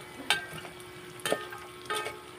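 Pork offal adobo frying in oil with bay leaf, a steady soft sizzle broken by three brief louder crackles or stirs, close and alone without talk.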